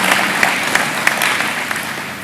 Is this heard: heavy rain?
no